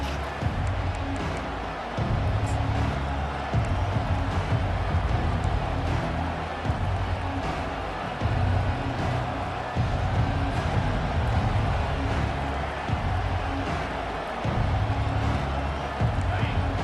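Football stadium crowd at an Oklahoma vs Miami game, a loud sustained roar with surging waves and a few sharp bursts, filling the whole stretch of play.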